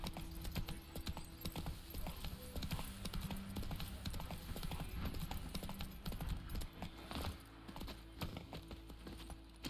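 Horse hooves clip-clop steadily on a road in The Witcher 3, a continuous close rhythm of hoofbeats running throughout, with faint game ambience underneath.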